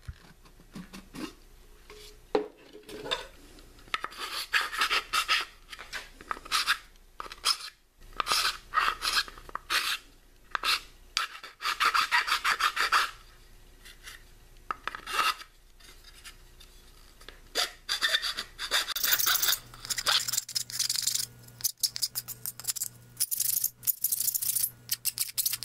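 A hand file rasps against slots cut in a plastic aquaponics grow tower. The scraping strokes repeat in short irregular bursts separated by pauses. The sound is close and fairly bright, with small knocks and handling noises in between.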